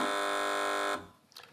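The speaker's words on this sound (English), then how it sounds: "Fingers on buzzers, teams." A contestant's buzzer on a British TV quiz panel show sounds one loud, sustained electronic tone for about a second, then cuts off into faint studio noise.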